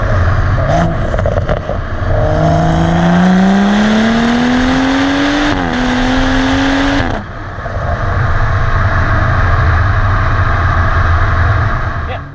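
A BMW M135i with a Stage 2+ MHD tune, downpipe and intercooler, pulling hard at full power in second gear, its engine note climbing steadily and loudly before a brief shift break and continued roar.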